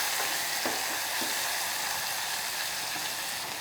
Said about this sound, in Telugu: సో ఈ విధంగా మనం డ్రై ఫ్రూట్స్ అలాగే నానబెట్టించిన పెసరపప్పుని ఒక్క 2 to 3 మినిట్స్ వేయించుకోవాలి.